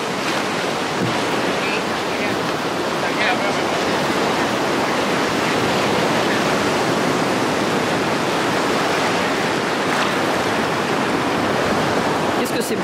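Ocean surf with a very strong current, a loud, continuous roar of breaking waves on a beach where people swim, with wind rushing across the microphone throughout.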